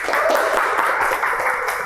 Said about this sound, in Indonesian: Buat Kak Ricky, beri tepuk tangan yang meriah.